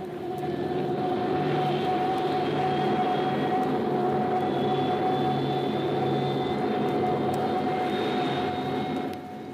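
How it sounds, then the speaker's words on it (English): Jet engines roar continuously overhead, a steady distant rumble with a high whining tone sustained throughout, fading slightly at the end. "You are listening to one of several jet bombers miles in the air."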